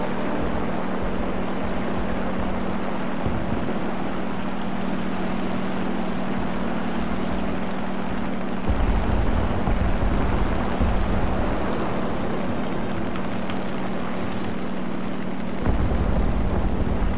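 Steady droning engine of a British dive bomber plane in War Thunder, a continuous low hum with a constant tone that swells slightly louder around the middle and near the end, with no voices over it.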